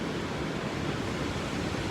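Ocean surf at a beach washes in a steady, broadband roar, with wind mixed in and no clear gaps between waves. The sound is moderately loud and continuous, with no talk over it.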